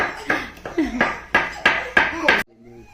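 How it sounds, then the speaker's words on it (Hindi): Dishes and utensils being gathered up after an iftar meal during Ramadan, giving a string of sharp clinks and clatters at a steady pace, close by, with people talking over them. "अब बर्तन उठाए जा रहे हैं, खाना खुना हो गया।"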